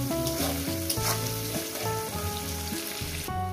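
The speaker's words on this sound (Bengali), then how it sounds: "খুব সুন্দর করে লাল লাল করে ভেজে নেব" Onions salted in a pan for chicken kosha fry steadily with an even, dense sizzle and occasional stirring scrapes, while background music plays throughout.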